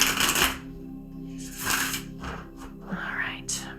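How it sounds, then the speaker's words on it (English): Soft rustling and riffling of tarot cards being shuffled, close and quiet, in a few short bursts with brief pauses and faint murmuring between. "let's give it one more good shuffle."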